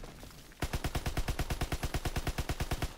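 Rapid automatic gunfire from a World War II shooter video game, a fast steady burst of evenly spaced loud shots that starts abruptly and continues without pause.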